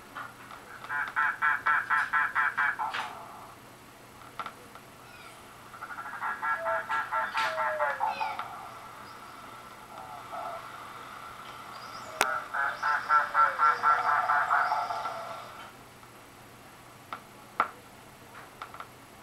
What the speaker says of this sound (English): Mangrove cuckoo.